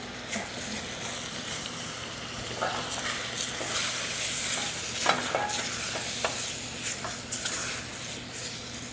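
Tomatoes stirred and sizzling in a hot pan, a steady close frying hiss broken by repeated scraping strokes and clicks of a spoon, with no talking.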